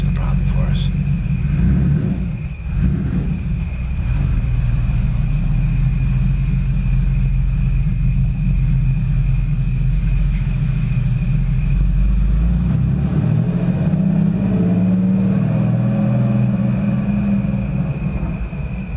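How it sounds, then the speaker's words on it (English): A race car or Porsche engine rumbles outside, a continuous deep growl that swells somewhat louder toward the end, heard alongside low, indistinct voices nearby. "Somebody got like a race car or something, a Porsche or something."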